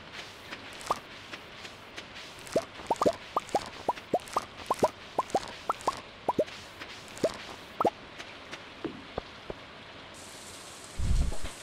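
Rain in the farming video game Stardew Valley, a quiet bed of falling rain dotted with a dozen or more distinct plopping drips at an irregular rhythm, with no voices.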